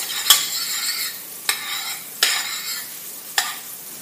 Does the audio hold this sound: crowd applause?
no